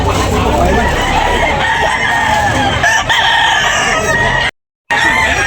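A 16-month-old Wapo gamecock rooster crows at a fowl sale in Tabunok, Talisay, its call loud and close over steady crowd noise and clucking, with a brief dropout near the end.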